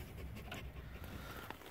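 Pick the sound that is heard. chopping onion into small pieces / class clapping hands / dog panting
dog panting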